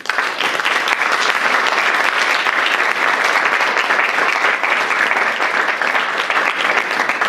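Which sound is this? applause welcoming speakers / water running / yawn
applause welcoming speakers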